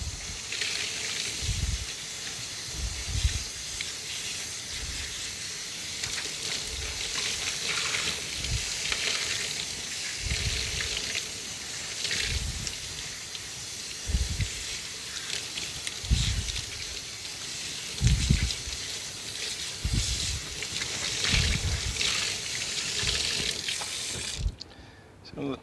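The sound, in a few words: water running from a sink tap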